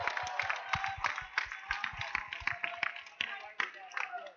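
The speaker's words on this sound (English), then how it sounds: "Audience, I'd like to give a big round of applause to all these students that are standing here." An audience at an educational robotics conference tournament claps for students. Sharp claps come in quick, uneven bursts, fairly close and moderately loud, and speech-like sounds mix in with them.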